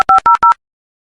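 Telephone tones beep in three quick, loud, evenly spaced double-tone pulses, followed by silence.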